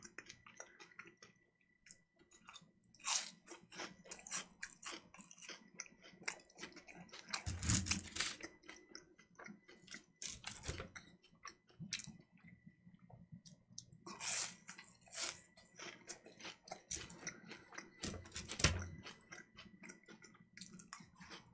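Quiet close-miked chewing and soft squishy bites while someone eats pork cutlet with cold soba, coming in repeated bursts with short pauses between mouthfuls.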